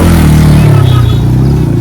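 A motorcycle passes on a winding hill road near Kurseong in North Bengal, its engine a loud, steady low drone that sweeps slightly in pitch as it goes by over about two seconds.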